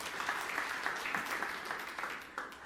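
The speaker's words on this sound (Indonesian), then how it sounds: "tepuk tangan yang meriah untuk kemuliaan Allah" A church congregation claps in sustained, lively applause from many hands, with no break over the whole stretch.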